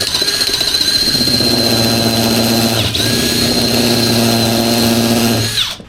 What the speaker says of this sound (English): we're gonna have to drill these bigger